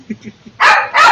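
Dogs at a home barking: a few soft low woofs, then two loud, close, sharp barks.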